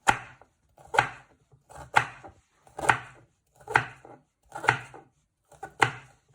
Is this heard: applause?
no